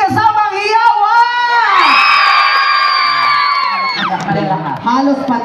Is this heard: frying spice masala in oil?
no